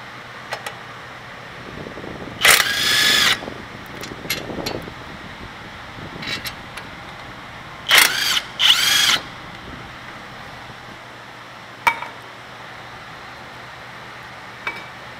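Power tool loosening the two 18 mm front caliper bolts on a 2003 Ford Expedition: a short, loud whirring burst followed later by two more close together, with quiet clinks and workshop quiet between them.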